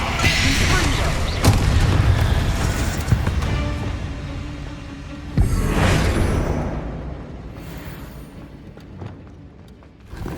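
Blasting-curse explosions in the Hogwarts Legacy video game, several loud booming bursts with whooshing tails that fade into lingering rumble, heard among game ambience.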